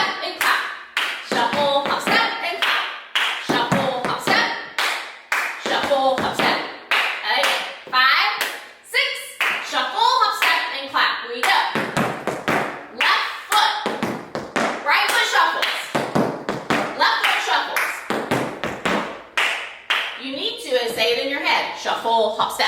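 Tap shoes strike the floor in a beginner tap dance lesson, with repeated shuffle, hop and step patterns and hand claps in a steady rhythm beneath an instructor's nearly continuous spoken counting.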